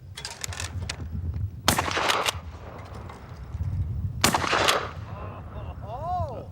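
Two sharp bursts of gunfire from a small gun shot at close clay targets at an outdoor fair shooting show, loud and echoing, with faint voices between the shots.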